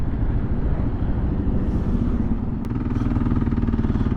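A Kawasaki KLR650 single-cylinder motorcycle, 2023 model, runs with a steady, close engine rumble throughout, with no speech over it.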